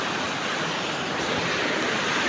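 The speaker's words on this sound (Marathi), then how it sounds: "कसं पाणी चालू आहे ओढ्यामध्ये." Stream water flowing in a steady, unbroken rush, close and fairly loud, with no breaks or voices across the whole stretch.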